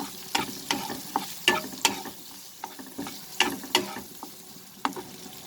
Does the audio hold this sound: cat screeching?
no